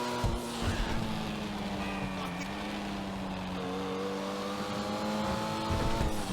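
The Pfister Comet SR sports car in GTA Online runs with a steady, loud engine drone that rises and shifts in pitch as it revs and accelerates, continuous throughout with no pauses.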